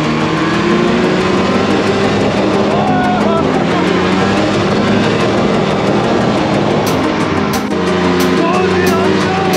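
A vehicle engine runs loud and close throughout, a dense steady roar with slight rises as it is throttled, while people talk over it.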